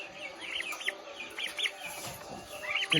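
Chickens cluck in short repeated bursts, fairly close, over a steady background hum with no one talking.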